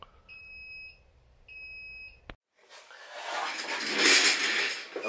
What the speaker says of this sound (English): All right, it is beeping now. Three long beeps.